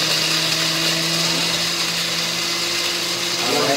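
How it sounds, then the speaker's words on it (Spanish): A blender whirs steadily at high speed as it blends a mixture with egg, a loud, constant motor whine with a slight pitch rise near the end, filling the short stretch without talking. "Ahora licuamos, como podemos apreciar ahí, estamos licuándolo."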